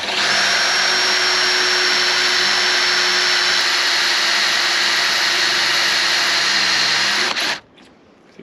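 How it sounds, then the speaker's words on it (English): A hard-steel drill bit bores through stainless steel on a sailboat with a loud, steady whining drone. It runs for about seven seconds and then stops suddenly. "I've got a new drill bit that's good for very hard steel. This is stainless steel, and hopefully we can push it through the bottom."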